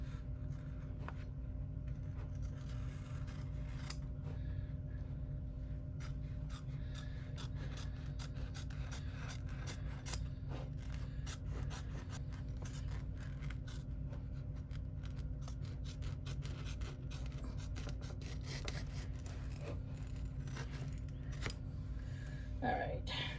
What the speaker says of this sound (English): I should not be using these scissors on this actually, because this is very papery.